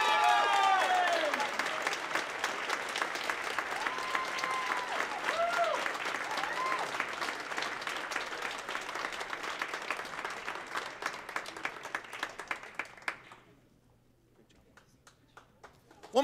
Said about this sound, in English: One more big round of applause for all the students